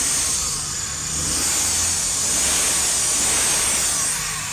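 A car engine running noisily from a worn tensioner bearing, a steady close mechanical hum with a faint rising whine, continuous and without speech.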